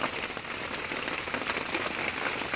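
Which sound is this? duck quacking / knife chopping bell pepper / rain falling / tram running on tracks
rain falling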